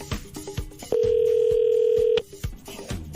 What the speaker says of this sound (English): Now you got to answer if it's ringing